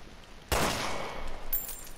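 A single sharp gunshot in the video game Resident Evil Revelations 2 bursts out suddenly and loud, then rings into a noisy decay, with a brighter crackling tail of game effects at the end.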